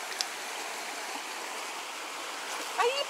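Stream water flowing steadily at a village, a constant soft wash heard alone at low level, with a faint voice and brief splashy sounds near the end.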